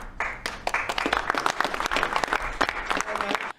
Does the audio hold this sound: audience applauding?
yes